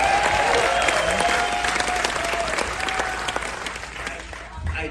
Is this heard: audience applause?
yes